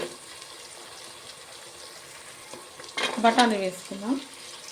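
Vegetables and peas fry in a pan with a low steady sizzle, then a louder burst of stirring and scraping with brief tonal squeaks from the utensil.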